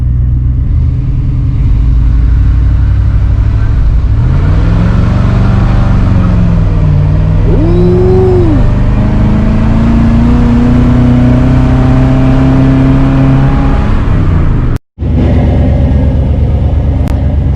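A Chevrolet C1500 truck with a 5.7 engine revs up during a test drive, its loud, close engine note rising and falling through several long pulls before a brief cutout and a return to a steady drone.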